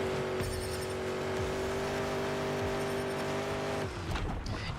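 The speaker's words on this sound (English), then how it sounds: "It is just really, really loud engine noises." Loud, continuous monster truck engine roar from the Monster Jam Showdown video game, a steady droning rev with shifting pitch and tire noise throughout, with no talking.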